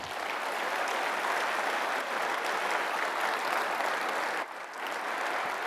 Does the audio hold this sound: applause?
yes